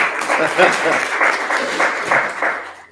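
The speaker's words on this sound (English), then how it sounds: "Yeah, give him a round of applause." A county board meeting crowd applauds Will Flory, steady clapping for about three seconds that fades out at the end, with some voices mixed in.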